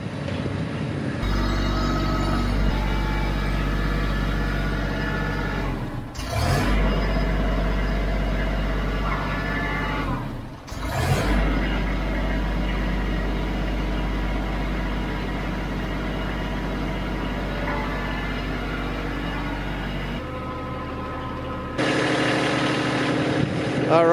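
A Kubota B2650 compact diesel tractor engine idles steadily while warming up in a garage, chugging evenly for a long stretch with a couple of brief revs or bumps partway through.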